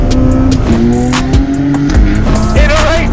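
A BMW M2 Competition driven hard, engine revving loud and close through gear changes, with tires squealing in sharp bursts as the car slides.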